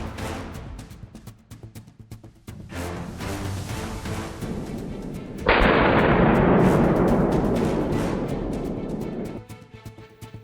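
A loud blast rings out during a wild boar hunt with hounds, most likely a rifle shot. It bursts in suddenly partway through and stays full and sustained for several seconds before cutting off, following scattered fainter pops and rustling.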